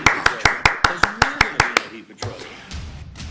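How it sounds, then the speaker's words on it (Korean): Congregation in a church service clapping in a quick, regular rhythm of about nine sharp claps, close and loud, before the applause trails off into scattered noise and murmuring. "아버님께 큰 감사의 박수를 올리겠습니다"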